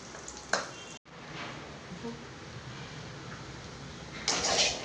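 Ivy gourd curry simmering in an open pot, close by: a steady bubbling, hissing texture with a brief thump near the start and a louder burst of bubbling at the end.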